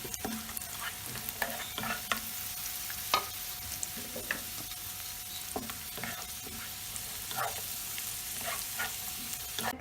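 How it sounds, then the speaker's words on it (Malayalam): Raisins being sautéed in a pan while making Ramadan thari kanji, with repeated clinks and scrapes of a spoon stirring over a quiet, steady sizzle; no one speaks. "എന്നിട്ട് മുന്തിരിങ്ങ കൂടിയിട്ട് ഒന്ന് വഴറ്റിയെടുക്കുക"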